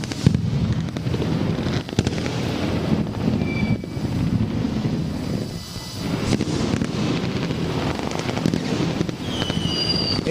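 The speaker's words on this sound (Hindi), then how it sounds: "कराची समेत मुल्क भर में शानदार आतिशबाजी का मुजाहरा किया जा रहा है।" Fireworks over Karachi for New Year 2020 fill the air as a steady, dense crackle and rumble of bursts, with overlapping blasts, a sustained roar and some high whistling streaks toward the end.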